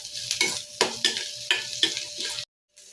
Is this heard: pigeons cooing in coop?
no